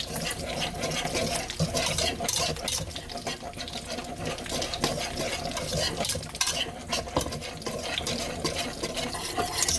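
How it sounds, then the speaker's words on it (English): Gravy whisked in a pan from canned oxtail juices and flour: a steady wet swishing and stirring with light clinks, continuous and close, with a faint sizzle underneath. "we're going to whisk this around. We're starting to build our gravy just from those canned juices"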